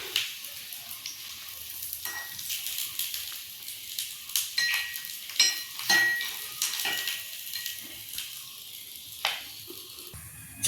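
Paniyaram batter fries in a pan with a steady, close sizzle, punctuated by metallic clinks and scrapes as the pieces are turned and lifted.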